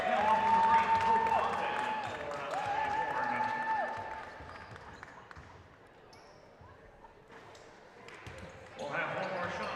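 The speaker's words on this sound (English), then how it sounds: "Lots of applause for number 6, Maddie Bourne, heading to the bench" A crowd applauds and cheers in a gym during a 5A provincial high school basketball bronze game as a player heads to the bench. The clapping swells near the end, mixed with announcer commentary and arena noise.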